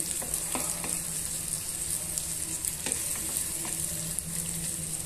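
Garlic cloves and curry leaves fry and sizzle in hot oil for a Telugu potato fry, with a steady bright hiss and occasional spoon scrapes and stirring clinks, close and continuous with no talking.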